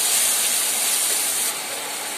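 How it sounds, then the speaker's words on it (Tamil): Drumstick masala sizzles in a frying pan with a steady, close, bright hiss that drops slightly in level partway through, with no talking. "இப்போ நல்லா கிளறி விட்டுக்கலாங்க."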